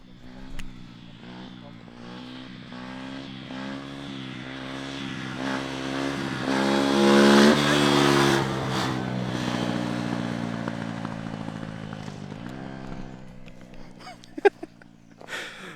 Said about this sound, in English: there are some guys riding on their motorcycles. One guy was doing a wheelie.